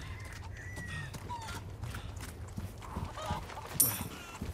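A chicken in the Resident Evil 4 Remake video game clucks and honks in short, uneven calls over low background rumble, ending with a sharper, louder squawk near the finish.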